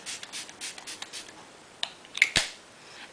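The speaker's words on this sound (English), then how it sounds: "I'm going to start off by spritzing this all over my face." Smashbox Photo Finish Primer Water is spritzed onto a face in a series of short, crisp hissing sprays, close and quiet, with a few louder bursts near the end.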